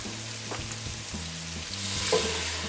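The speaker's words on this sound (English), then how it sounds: "It's time for me to add that broth." Broth is poured into a hot Dutch oven for lobster bisque, setting off a steady, close sizzle and bubbling hiss with a faint clink partway through.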